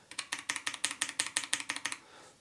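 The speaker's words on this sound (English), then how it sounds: "The keyboard I have with the Box Royals, which is this KBD67 Lite Revision 2." Rapid typing on a KBD67 Lite Revision 2 keyboard fitted with lubed Box Royal switches, about fifteen crisp, close keystrokes in an even rhythm, then quiet.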